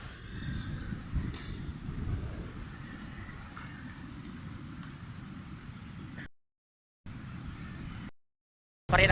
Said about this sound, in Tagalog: Ang lakas pa rin ng hangin.